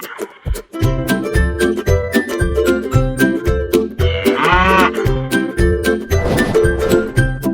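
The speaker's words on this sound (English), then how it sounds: "Cow." A cow moos loudly and close over a rhythmic musical backing, with a couple of drawn-out bleating calls partway through and no talking.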